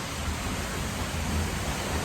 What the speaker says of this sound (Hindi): ठंडा ठंडा पानी, कितनी ऊपर से वाटरफॉल आ रहा है।